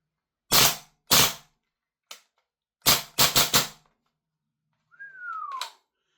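An Umarex VFC G36C gas blowback airsoft rifle fires sharp, loud cracking shots: two spaced single reports, a faint pop, then a tight quick burst of several rounds, followed by a short whistling tone.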